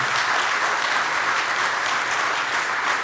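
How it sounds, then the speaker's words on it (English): Sustained applause from an audience at a conference awards presentation, a dense steady clapping that fills the whole stretch at a fairly loud level. "how about another round of applause for Southern Police?"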